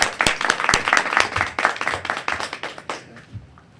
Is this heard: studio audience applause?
yes